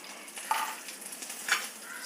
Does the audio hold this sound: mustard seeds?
yes